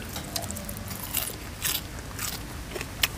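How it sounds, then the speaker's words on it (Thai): Someone bites into a ball of sticky rice with Thai-style fish larb, giving a close, crackly crunch with a few sharp bite transients over steady background noise, and no talking. "จะกัดมันเลย"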